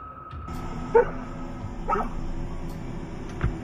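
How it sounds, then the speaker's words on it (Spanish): A dog barks a few times outdoors, sharp single barks spaced about a second apart, moderately close over a steady background drone, with no voices. "What you barking at?"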